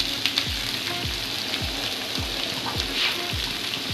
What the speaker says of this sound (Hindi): और प्याज डाल के 2 मिनट तक मैं इसको फ्राई करूंगी।